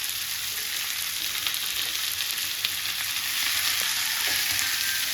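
Prawns coated in masala sizzle steadily on a hot tawa, a continuous close frying hiss with faint scraping now and then as they are stirred.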